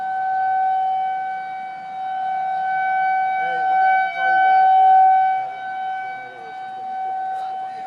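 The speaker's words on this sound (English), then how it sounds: "The sirens are going off." A tornado siren wails over Omaha, a sustained outdoor tone rising and falling slightly, with a person's voice talking faintly beneath it partway through.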